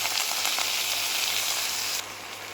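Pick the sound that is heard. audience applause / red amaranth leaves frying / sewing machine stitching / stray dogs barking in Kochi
red amaranth leaves frying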